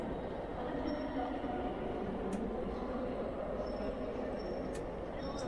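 A train pulls into a platform in Train Simulator Classic on a Greater Anglia service from Southend Victoria to London Liverpool Street. A continuous low rolling rumble runs throughout, with thin wheel squeals and a few sharp clicks on top.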